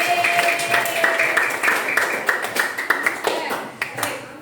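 Children in an elementary classroom clap their hands in a rapid, uneven patter while a teacher's voice and other sounds carry over it.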